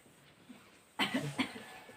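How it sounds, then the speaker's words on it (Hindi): A few quick coughs break out after a second of quiet, close and fairly soft. "खांसी मत देखिए इधर"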